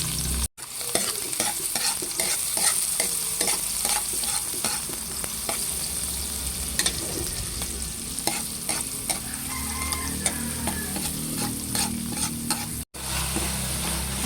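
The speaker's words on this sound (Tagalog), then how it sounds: "Akin na pong ilalagay itong bawang at sibuyas." Garlic and onion sauté in a pan for spaghetti sauce, a steady close sizzle with frequent scraping and clicking of a utensil stirring, no talking.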